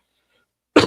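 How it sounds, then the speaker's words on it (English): One short, harsh cough close by after near silence. "trying to fight off this cough"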